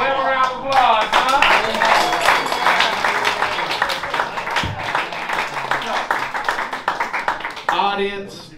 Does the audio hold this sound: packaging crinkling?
no